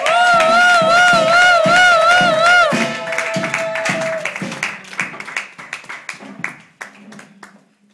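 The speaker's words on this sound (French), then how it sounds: "Pendant qu'ils viennent nous acclamer très fort" An audience cheers and claps for children coming up to sing at a New Year's Eve church mission gathering. Loud, dense applause with a high held cheer or ululation fades into scattered, irregular claps.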